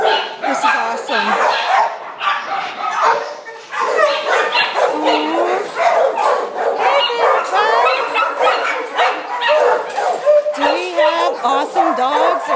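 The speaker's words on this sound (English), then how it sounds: "Awesome dogs." Several dogs barking, yipping and whimpering close by in a busy, overlapping chorus, with excited human voices mixed in.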